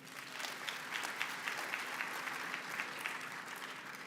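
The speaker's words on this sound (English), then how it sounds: "give them a round of applause" Steady applause from a crowd honoring graduates at a university graduation ceremony, sustained clapping of many hands filling the hall without pause, moderately loud and even throughout.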